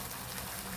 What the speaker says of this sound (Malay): Kita letak sedikit air lah.